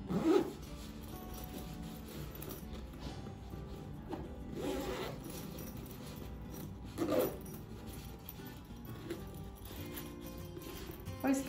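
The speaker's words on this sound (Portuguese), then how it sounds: "Nosso zíper." A zipper is handled while a shoe bag is sewn, giving soft, intermittent rasping zips at close range over steady low room noise.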